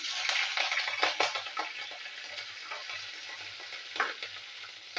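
Panch phoron spices and green chillies sizzle in hot mustard oil, a bright continuous crackle with a few sharp pops and spatters near the start, close and alone.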